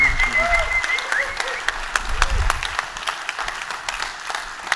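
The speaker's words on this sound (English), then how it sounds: "I think you definitely deserve another round of big applause." Steady applause from a crowd, dense clapping throughout with a faint voice and some whistling tones mixed in.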